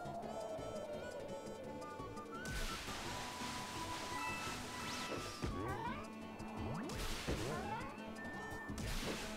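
A cat meows and yowls in Super Mario 3D World, with repeated rising cries scattered over lively game music and effects, loud and close.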